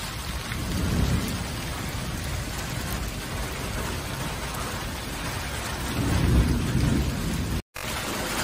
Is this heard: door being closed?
no